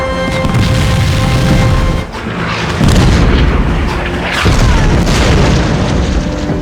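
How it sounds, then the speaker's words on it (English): Heavy World War II German artillery shelling during a wartime train crossing, a continuous loud barrage of booming blasts with several sharper impacts standing out amid the rumble. "familiar German artillery fire once again rained down."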